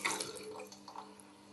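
Water trickles from a weak bathroom bidet faucet clogged with limescale, a thin uneven splashing and dribbling stream that fades slightly over its short run; no one speaks.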